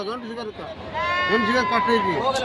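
Young ram lambs bleat repeatedly at the busy Haveri sheep market, wavering cries close by with overlapping calls, while traders and buyers chat in the background.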